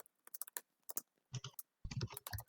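Bursts of quiet computer keyboard typing, rapid clustered key clicks with short pauses between runs, close and soft, with no talking.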